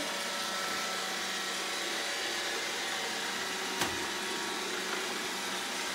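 An iRobot Roomba 690 robot vacuum drones steadily across a hardwood floor with an even, whirring motor hiss and a single faint knock partway through.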